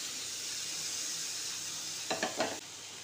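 Two large tomatoes cook in a pan for a curd masala bhindi dish, giving a soft, steady sizzle close by, broken near the end by a few quick clinks of a spoon stirring against the pan.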